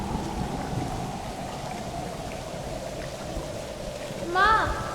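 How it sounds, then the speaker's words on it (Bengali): Storm and heavy rain sound effect in a Bengali cartoon: a steady hiss of rainfall with low wind, then a brief warbling rise of sound near the end. "সেদিন সন্ধ্যা থেকে শুরু হলো খুব ঝড় বৃষ্টি।"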